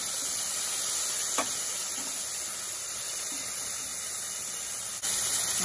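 Capers and black olives cook in a pan of puttanesca sauce, giving a steady, even sizzling hiss with a couple of faint clicks and no talking.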